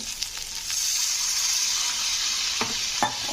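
Catfish with chilli and turmeric powder frying in a pan, a steady bright sizzle with scraping stir strokes near the end.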